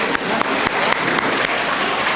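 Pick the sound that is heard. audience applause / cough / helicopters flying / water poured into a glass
audience applause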